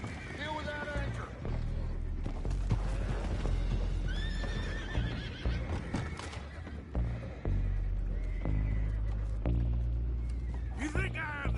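Horses whinny and neigh repeatedly in a video game, with hoof clatter and other game noises, while voices speak over them throughout.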